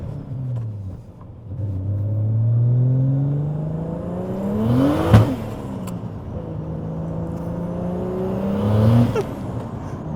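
BMW E46 with a turbocharged M50 engine and the exhaust opened, revved repeatedly in loud rising and falling sweeps with a sharp bang at the top of one rev, close by and without talk.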